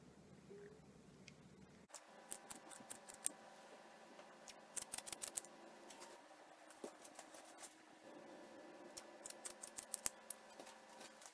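Kitchen scissors snip short hair close up in quick irregular bursts of crisp metallic cuts, pausing briefly between runs, over a faint quiet room hum.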